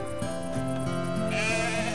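A lamb bleats in a long, wavering cry close by, one drawn-out call that rises and trembles.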